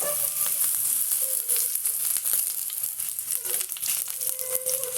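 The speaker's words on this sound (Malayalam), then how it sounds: "കടുക് പൊട്ടി ഇതിലേക്ക് ചെറിയ ഉള്ളി അരിഞ്ഞിട്ട്" Chopped shallots fry in hot oil with popping mustard seeds, giving a continuous close sizzle broken by sharp crackles and pops.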